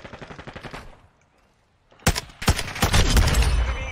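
Automatic gunfire in the video game Call of Duty MW2, a quick rhythmic burst of shots, a second of quiet, then loud sharp bursts and sustained firing, close and dominant.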